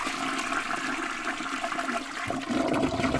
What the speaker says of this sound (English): I'm going to flush that right down the shitter